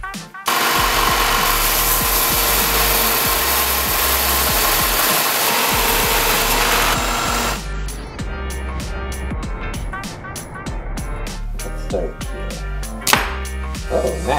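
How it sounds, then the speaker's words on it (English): A power tool sands all around the handle of a camp kitchen knife with Micarta liners, giving a loud, steady grinding rush for about seven seconds before it stops and quieter workshop noises follow. "I'm going to sand all the way around."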